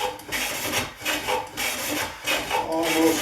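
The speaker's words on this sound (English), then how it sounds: "I'm going to start with the convex planing." A Stanley No. 20 1/2 circular plane cuts a convex curve in wood, giving a run of rhythmic rasping strokes, loud and close, each a second or so long and separated by short pauses, with no talking.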